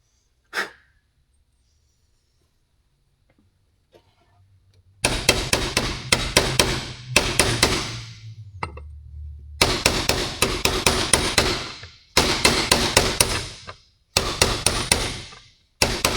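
A frozen bearing is hammered into a heated Kawasaki KX100 engine case, giving loud close metallic blows in rapid repeated bursts with short pauses, after a quiet start.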